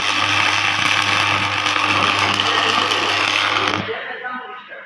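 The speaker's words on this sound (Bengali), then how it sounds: "আমাদের এক বন্ধু আমাদের এখন ওয়েল্ডিং করছে" Arc welding on a metal structure being built for a trade stall, a steady crackling buzz with a low hum that runs for about four seconds and then cuts off, fairly close.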